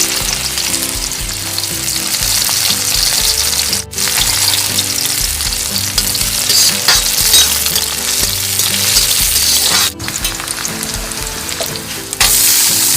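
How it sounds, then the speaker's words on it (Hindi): Cumin, onions and green chilies fry in hot oil in a wok, a loud continuous crackling sizzle throughout with a couple of brief dips as ingredients are added and stirred. "अब हम थोड़ा सा जीरा डाल रहे हैं। डालने जा रहे हैं हम प्याज। डाल रहे हैं हम हरी मिर्च।"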